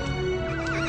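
Horses in the Horse Riding Tales video game give a loud, close whinny that rises and wavers in pitch, over a steady game backdrop with faint hoof clatter.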